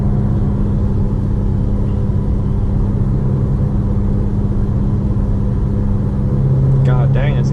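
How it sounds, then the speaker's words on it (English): A car passes on a road while heard from inside another vehicle, its engine a steady loud rumble under the cabin drone, with a voice speaking briefly near the end. "after this car comes by"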